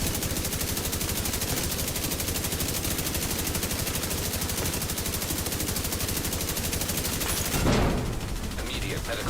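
Sustained automatic weapon fire in the shooter The Division 2: a rapid, unbroken rattle of shots that runs almost the whole time, ending in a louder burst, with a voice speaking at times.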